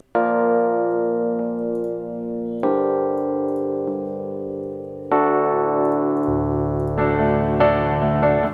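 A second electric piano layer plays slow sustained chords on its own, a new chord struck roughly every two and a half seconds, ringing clear and mellow, with a low bass note joining near the end.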